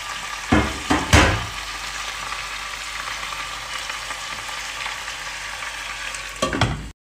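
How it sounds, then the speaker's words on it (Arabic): Chicken fries with onions, garlic and ginger in a pot, a continuous close sizzle with a few loud stirring scrapes near the start and again near the end before cutting off. "ننزل الدجاج ونخليه لين بس يعطينا لون نفس لون البصل"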